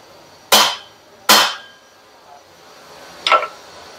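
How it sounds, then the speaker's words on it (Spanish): A small hammer strikes a vehicle's cardan driveshaft with sharp metallic taps, two close together and a softer third a couple of seconds later, each ringing briefly in a quiet workshop. "Vamos nuevamente a darle otro pequeño martillazo"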